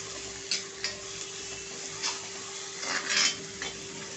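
Onion fries in a pan for chicken handi, a soft steady sizzle under a faint background hum, broken by a few light clinks and scrapes of a spoon stirring against the pan.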